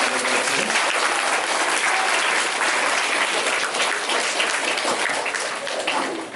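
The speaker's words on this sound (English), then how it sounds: "Can we have a round of applause for Howie for being here?" An elementary school audience at a Flag Day ceremony gives a round of applause for Howie, a thick, continuous roar of many hands clapping that stays loud and even before easing slightly at the end.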